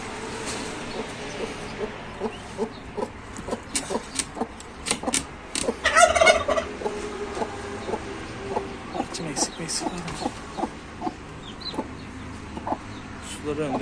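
Turkey in a pasture among other fowl, with repeated short clucks and calls throughout and a louder burst of calling in the middle, close by.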